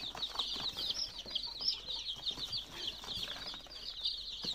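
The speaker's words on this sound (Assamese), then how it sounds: "আমাৰ কুকুৰা পোৱালিকেইটা ট্ৰান্সফাৰ কৰিছোঁ এতিয়া এইটোৰ পৰা এইটোলৈকে।" Chicks and ducklings being moved from one box to another, giving dense, continuous high peeping with soft rustling and scuffling underneath, close and fairly quiet, with no talk.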